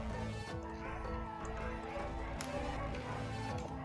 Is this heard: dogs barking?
yes